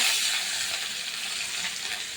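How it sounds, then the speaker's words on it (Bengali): Snakehead fish sizzling in hot smoking oil in a wok, a steady loud close hiss of frying that carries through without pause. "কড়ার তেল পুরো ধোয়া বেরিয়ে গেছে, আমি মাছ দিয়ে দিচ্ছি।"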